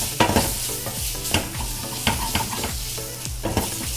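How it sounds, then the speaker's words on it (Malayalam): Garam masala and spices sauté in a pan for crab roast curry, a close, steady sizzle broken by frequent spoon-stirring scrapes and knocks, with no talking. "ഇതെല്ലാം കൂടി നന്നായിട്ട് വഴറ്റണം."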